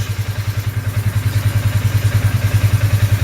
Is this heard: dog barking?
no